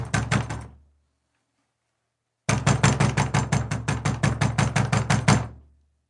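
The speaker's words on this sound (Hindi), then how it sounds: "तब ही दरवाजे पर दस्तक हुई।" Knuckles rap on a wooden door in two bursts: a short quick run of knocks, a pause, then a longer steady series of sharp, evenly spaced knocks, close and clear with nothing else heard.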